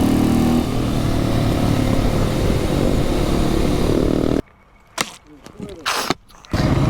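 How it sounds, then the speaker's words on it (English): A Supermoto motorcycle out on a ride, its engine a loud, steady buzzing drone under rushing wind for several seconds before cutting to near quiet broken by short bursts of rumble and scraping. "I find it really hard to turn with a Supermoto in a wheelie."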